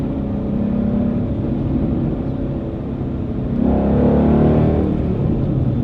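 A car in track mode driving through corners, with a steady interior engine drone and road noise that swells into a louder, rising rev partway through before easing back.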